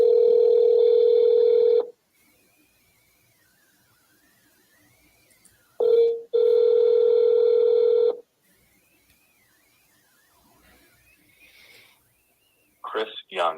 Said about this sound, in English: I got to double dial at least.